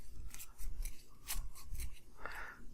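A deck of cards for the board game Kings of Israel being shuffled, giving a series of crisp riffling, snapping bursts close to the microphone, with no talking.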